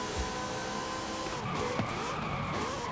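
A race car in Forza Horizon 5 at the Monza circuit revs and strains through shifts while its tires squeal, a loud, continuous engine note with no one talking.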